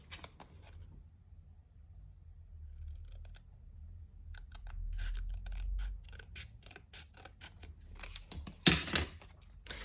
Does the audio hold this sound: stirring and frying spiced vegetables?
no